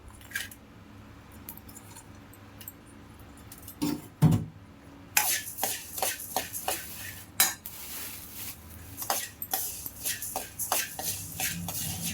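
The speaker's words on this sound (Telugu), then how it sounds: "దీంట్లోనే పసుపు కొమ్ములు వేస్తున్నాను" Dry turmeric sticks tumble into a pan for sambar powder, clattering hard and loud after a few faint taps, followed by a steady run of scraping, stirring knocks against the metal.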